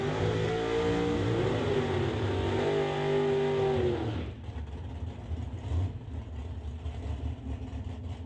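Two Corvette Super Gas drag cars idle and blip their engines at the staging lanes of an NHRA divisional race at Mission Raceway. A strong, steady engine drone holds for about four seconds, then drops to a lower, rougher rumble.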